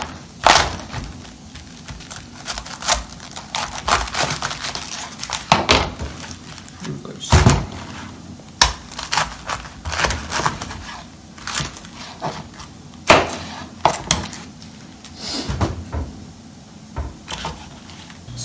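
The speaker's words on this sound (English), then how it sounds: "I'm gonna cut some cabbage." A kitchen knife cuts through a cabbage in a cooking class, sharp crunching, cracking chops in irregular bursts with a low room hum beneath.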